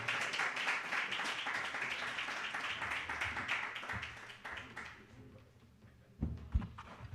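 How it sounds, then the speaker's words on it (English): Applause from a small audience at a live music show in a club, brisk clapping that carries for about five seconds before tapering off into a few stray claps and knocks. "How about another big round of applause for Joe and Gresham and Kaylee?"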